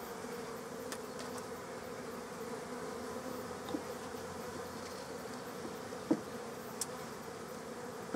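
Honey bees humming steadily inside a long bench hive, a dense, even buzz with a few brief louder passes of single bees near the listener, no voices.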